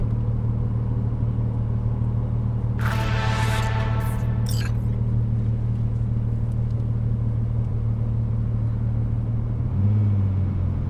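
Car driving through Night City in Cyberpunk 2077, a steady low engine drone and road rumble running throughout, with a brief brighter swish partway through and a deeper surge near the end.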